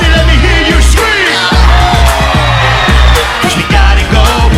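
A big concert crowd in London screams and cheers loudly throughout, a dense roar of whoops and yells with thumping bangs from the live show underneath.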